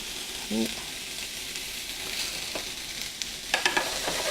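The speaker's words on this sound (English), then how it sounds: "We're going to let this saute a bit." Pork sausage sautés in a pan with a steady sizzling hiss, punctuated by occasional soft clicks and a brief clatter of utensil contact near the end.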